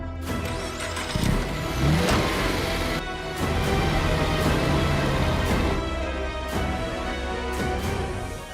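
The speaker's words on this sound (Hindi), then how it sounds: "कामले, गाड़ी निकाल।" A car engine runs steadily and loud for several seconds, with the drone of a vehicle pulling away and no talk over it.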